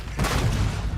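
A single grenade explosion in Starfield gameplay, a loud, close boom that swells abruptly and rumbles on with a heavy low roar for the rest of the moment.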